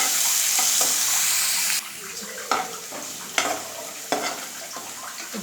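Ginger paste frying with browned onions in a pan for a Rayalaseema country-chicken curry, a steady close sizzle that drops in level partway, then stirring scrapes and clinks at intervals.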